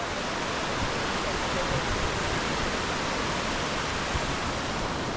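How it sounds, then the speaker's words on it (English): Rapids in a rain-swollen river rush over fallen rocks in Sapa's Muong Hoa Valley, making a steady, loud broadband roar that holds constant from start to finish. "Look at the rapids."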